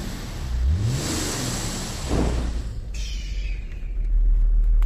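A BMW E34 525 TDS diesel engine idles and revs with a rushing, airy whoosh of the turbo spooling up, close and steady, with a rising whine partway through.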